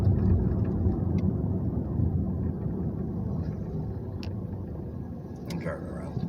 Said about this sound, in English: I'm driving around.